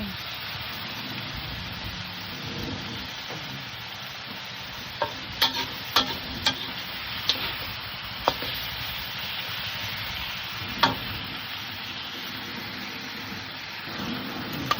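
Garlic chive flowers and sliced pork stir-fry in a pan with a steady, close sizzle, broken by several sharp clacks of a spatula scraping and tossing the food.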